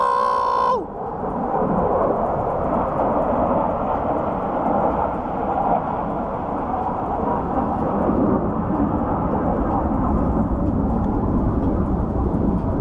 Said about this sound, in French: Avion de chasse!